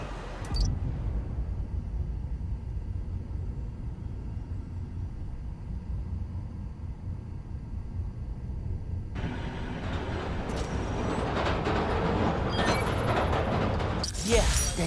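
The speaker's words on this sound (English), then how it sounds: "Hearing the clatter of the wheels, the squealing when the trains turn or stop" A subway train runs past in the Spider-Man Miles Morales video game, a continuous low rumble with wheel clatter that swells louder and brighter toward the end.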